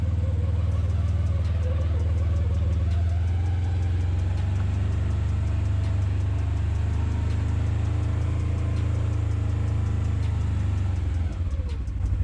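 A 2022 Polaris General Premium side-by-side crawls slowly uphill with a steady, low engine rumble, close and continuous throughout, with a faint clatter near the end.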